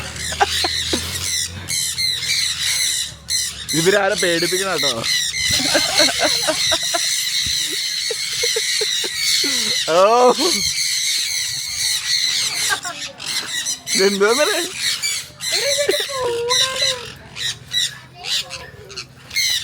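A cart aviary holds many birds squawking and screeching loudly nearby, with repeated sharp calls, while people talk and exclaim over them at a resort.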